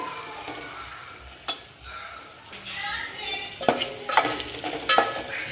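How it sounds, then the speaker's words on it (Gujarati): Potato pieces frying in oil for poha batata give off a soft, steady sizzle with a few clinks near the end, quiet and close, with a faint voice in the background. "એટલે હવે થોડાક બટાટા તેલમાં કકડવા દે"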